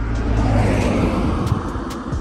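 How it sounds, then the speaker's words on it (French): A car passes by, heard as a steady broadband road rumble that holds at a similar loudness throughout, with no talking over it. "Ah, il y a une voiture."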